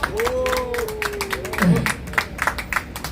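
A crowd at an outdoor rally in front of the National Assembly claps to welcome a pastor to the stage, with sharp, fairly regular bursts of applause under a voice and a sustained tone.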